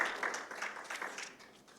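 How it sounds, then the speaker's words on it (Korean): A church congregation claps for visiting children during a Friday prayer meeting, a soft, steady patter of many hands that gradually fades over a couple of seconds. "우리 아이들에게 한번 박수 한번"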